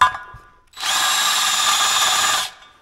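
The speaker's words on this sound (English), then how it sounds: "So I can either put it in my drill this way and use it this way" Power drill spinning a worn Harbor Freight step bit, whirring loud and close for about two seconds in one steady burst that starts and stops abruptly, with no talk.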